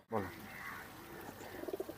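KTM and Kantuwala pigeons cooing close by in a cage, soft throaty coos ending in a short run of pulsing notes, with a brief knock at the start.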